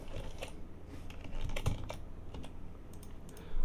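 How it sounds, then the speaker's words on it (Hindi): Fingers tap out quick, irregular bursts of clicks on a computer keyboard, close and fairly clear, with brief pauses between runs of keystrokes and no talking. "बट जैसे मैं इस पर टाइप करूँगा"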